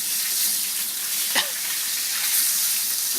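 Chunks of steak fry in hot oil with a steady, close broadband sizzle that holds through, a brief stir or scrape cutting in near the middle.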